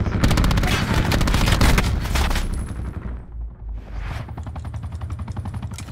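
Rapid automatic gunfire in Call of Duty: Black Ops 4, loud, dense bursts of shots that pause briefly midway and then resume in a quicker rattling volley.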